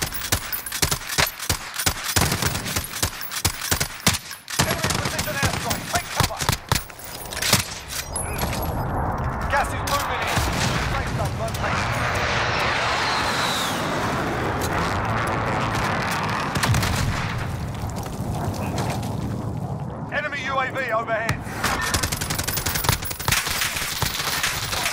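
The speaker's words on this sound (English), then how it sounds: "Keep suppressing fire." Gunfire in Call of Duty Modern Warfare, with loud rapid bursts of automatic weapons and heavy impacts dense at first, then a sustained roar of explosions and battle noise, with voices calling out over the fighting.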